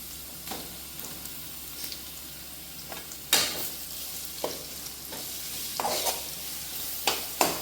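Onion paste sizzles quietly in a pan on the stove as a spoon stirs and scrapes through it in irregular strokes. No one speaks.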